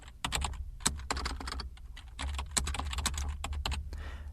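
Typing text on a computer keyboard, a quick close run of soft clicking keystrokes in two bursts with a brief pause, quiet and alone.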